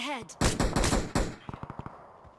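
Gunfire in PUBG Mobile: a loud rapid automatic burst, then a string of quieter single shots further off, with a voice speaking briefly at the start.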